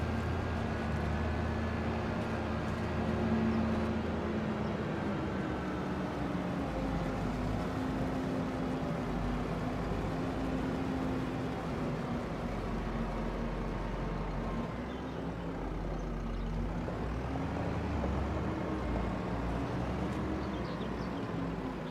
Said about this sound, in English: Now this little tractor will pull this thing pretty good.